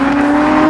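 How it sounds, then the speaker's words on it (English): An Aston Martin Vulcan race car's V12 engine sounds as a loud, sustained high-pitched roar with a strong steady tone, heard briefly up close. "this alien looking car flying past them with the most phenomenal V12 sound"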